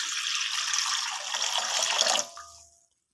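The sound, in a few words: water poured into a pan for boiling cauliflower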